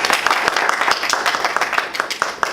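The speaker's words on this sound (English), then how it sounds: "Please give a round of applause." Applause for a speaker at a Toastmasters meeting, a modest audience clapping with distinct individual claps in an uneven rhythm, close and moderately loud, no talk over it.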